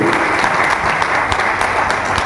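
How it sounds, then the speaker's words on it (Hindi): A crowd at an achievers' celebration event applauds a guru with dense, loud, continuous clapping throughout the short moment. "तो एक बार जोरदार ताली गुरु जी के लिए।"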